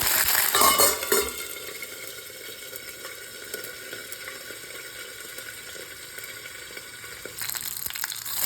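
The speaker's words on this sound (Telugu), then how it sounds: "ఆయిల్ వేడైందండి. మినపప్పు, శనగపప్పు వేసేసుకున్నామండి." Urad dal, chana dal, dried red chillies and curry leaves crackle and sizzle in hot oil, with a loud burst of spattering at the start that settles into a steady frying hiss before flaring again at the end.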